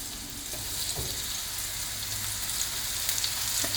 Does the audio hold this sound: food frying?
yes